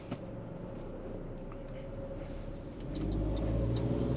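A 2023 MG ZST Excite SUV with a 1.3-litre turbo petrol engine drives along a road, a steady low engine rumble and road noise that swells louder near the end as it pulls away.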